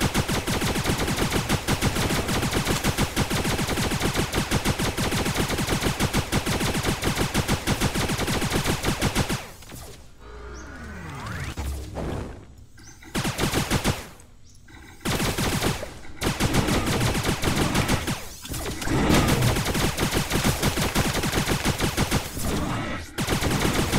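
Rapid, relentless gunfire in the video game Starbound during a cavern hunt, dense repeated shots rattling for seconds, broken by a short stretch of sparser bursts and a brief pause before the barrage resumes.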